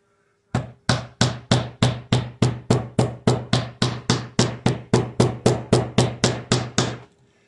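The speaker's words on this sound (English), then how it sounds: "I'm just hitting it enough to break down the fibers a little bit." Spiked meat hammer pounding beef for jerky: about twenty sharp, evenly spaced whacks in a fast steady rhythm, loud and close, then stopping.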